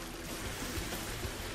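Murky water swirls and trickles during an underwater swim in the Quake 2 video game, a soft continuous rushing wash with faint bubbling.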